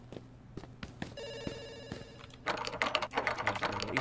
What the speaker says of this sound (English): We're gonna let it ring. Somebody will pick up.